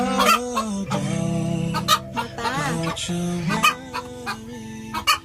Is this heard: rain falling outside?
no